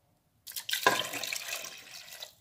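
Water is poured into a cooking pot for fish kizaca, a cassava-leaf dish. A close splashing pour starts abruptly and runs on steadily for about two seconds, with no one talking.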